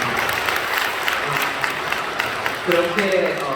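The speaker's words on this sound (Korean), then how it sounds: "박수 한번 해주시죠." Church congregation clapping to welcome visiting guests during a Sunday service, a fairly steady wash of applause with a voice speaking over it toward the end.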